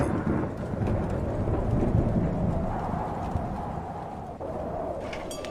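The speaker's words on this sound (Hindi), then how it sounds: "ऊपर आसमान में लगातार बिजली कड़क रही थी" Low, rolling thunder rumbles steadily beneath rain in a forest, a heavy dark storm sound with no talking.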